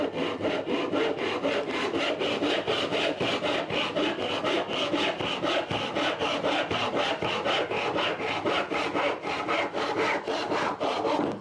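Rhythmic back-and-forth sawing of wood in a Minecraft modpack, MC Eternal 2, with steady rasping strokes at an even pace throughout, loud and close with no talk.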